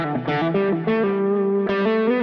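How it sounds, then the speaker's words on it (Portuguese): An electric guitar played through an overdrive setting on a Kemper Mesa/Boogie John Petrucci JP2C preset rings out as a few distorted, sustained notes with a thick, saturated tone, loud and close, no voices. "o botão número 1 vai ativar um overdrive"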